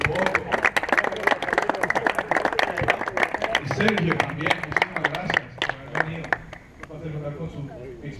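A crowd applauds at the trophy presentation of an adult soccer tournament, Mundialito 2014. The clapping is dense and steady and continues under someone speaking over a microphone, then thins out near the end.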